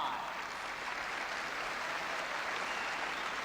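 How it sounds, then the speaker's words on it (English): A badminton arena crowd at the 1974 All England Championships cheers and applauds Hartono's first point of the second game, a steady, broad wash of clapping and cheering with no talk over it. "And a cheer because Hartono has notched his first point in this second game"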